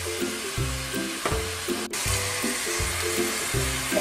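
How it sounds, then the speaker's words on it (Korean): Kimchi stir-frying in perilla oil in a pan, a steady close sizzle with rhythmic scraping and stirring strokes throughout and no talking. "여기에 김치도 같이 넣어서 볶아줍니다."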